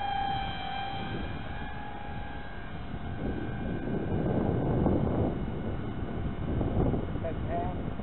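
XB-70 Valkyrie RC model jet flying at about half power, a steady whining turbine drone with sustained tonal lines, holding a fairly even level throughout with slight swells as it passes.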